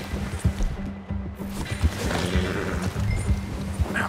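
Horse in the Red Dead Redemption 2 game, steady rhythmic hoofbeats of a horse moving at pace, with low rumbling ambience and no voices.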